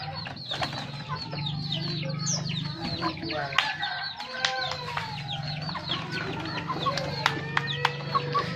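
Chickens clucking busily alongside pigeons at feeding time, with dense overlapping clucks, a rooster-like call and wing flaps over a low background hum, fairly faint.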